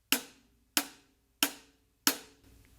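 Four evenly spaced hi-hat strikes on a drum set played as quarter notes, each a crisp, bright metallic tick with a short decay, close and alone.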